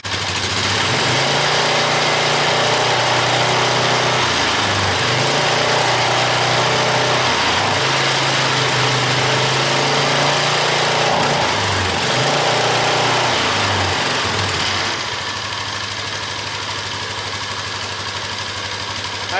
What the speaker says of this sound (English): It always just reaches a certain RPM and just kind of starts to cut out.